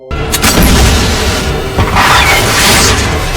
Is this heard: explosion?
yes